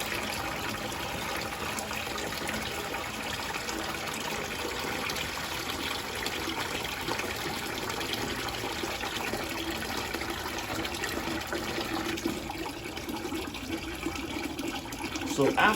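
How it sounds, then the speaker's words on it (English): Sanitizer draining out of a Carpigiani 1131 soft serve machine, a steady liquid gush and trickle running continuously at moderate level, slightly louder near the end. "after we drain all the sanitizer out of the machine"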